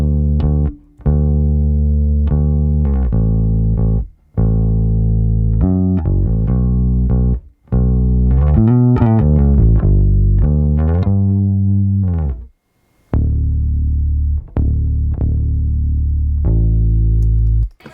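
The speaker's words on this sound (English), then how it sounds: "it's a P bass with flats, just recorded into a DI" P bass fitted with flatwound strings and recorded straight into a DI plays a solo line of round, warm low notes in short phrases, with brief gaps between them.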